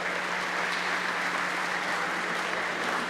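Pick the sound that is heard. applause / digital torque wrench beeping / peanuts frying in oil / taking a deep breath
applause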